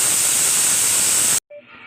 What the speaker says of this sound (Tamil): விசில் வந்து பார்த்திங்கன்னா இதோட 3ஆவது விசில்.